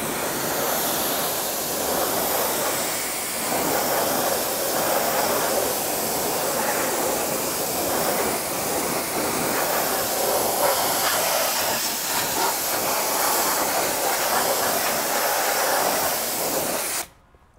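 A pressure washer fitted with an MTM Aqualine 40-degree nozzle sprays car wheels, giving a loud, continuous close hiss of water that holds steady for many seconds and then cuts off abruptly.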